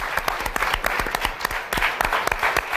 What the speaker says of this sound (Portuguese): E para eles... O nosso aplauso.